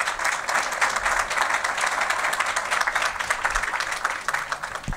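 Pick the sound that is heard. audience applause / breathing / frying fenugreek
audience applause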